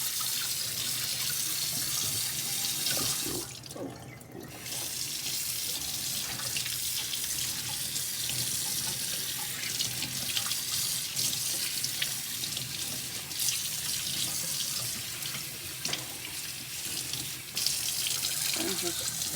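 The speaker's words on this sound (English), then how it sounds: "It's cold enough, and just rinse everything off." Cold tap water runs steadily into a sink, rinsing freshly cleaned fish caught on a fall outing at Banks Lake, a continuous close rushing stream with one brief dip partway through.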